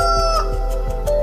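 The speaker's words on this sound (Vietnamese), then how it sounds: "Mới 5 giờ sáng anh gà đã gáy rồi hả?" An animated cartoon rooster crows, a loud, bright, drawn-out call with steady tonal layers underneath, close and brief with no talking.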